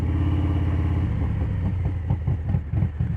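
A Harley-Davidson Street Bob 114 with a Stage 2 upgrade rolls smoothly through a school zone, its engine a loud, steady low rumble with a slight rhythmic chop growing toward the end, heard alone without talk.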